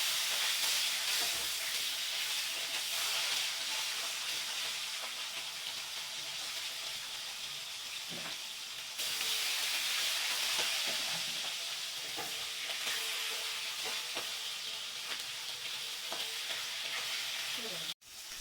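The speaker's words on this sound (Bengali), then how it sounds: "এখানে মাছ ভাজার জন্য আমি তেল নিয়ে নিয়েছি। এই যে মাছগুলো ছেড়ে দিলাম," Pieces of Katla fish fry in hot oil, a continuous loud sizzle and hiss that runs unbroken for about eighteen seconds, dipping briefly midway and cutting off abruptly at the end, with no one talking.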